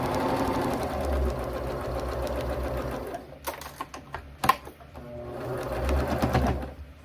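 A sewing machine stitches along a drawstring backpack seam in two steady runs, with a pause of small clicks and handling noises between them.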